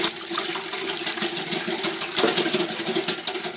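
Milk being whisked fast into chocolate cake batter in a bowl, a steady rapid rhythmic whirring and tapping, close and continuous with no talk.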